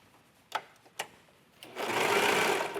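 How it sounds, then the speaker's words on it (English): A 4-thread overlock machine stitches sports bra fabric: two short taps, then a loud, steady whirring run of about a second near the end. "I am using a 4-thread overlock on this"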